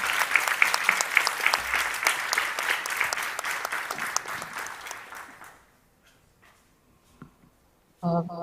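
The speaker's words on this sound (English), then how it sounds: "let's please give her a round of applause" Audience at a human rights conference applauds a speaker: dense clapping for about five seconds fades into near silence with a few isolated claps, then a voice begins talking at the end.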